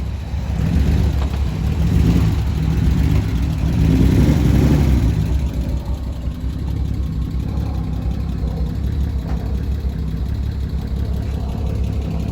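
A BMW E36 car engine runs steadily, with a close, continuous low rumble that swells louder for a few seconds early on, then settles into an even idle-like drone.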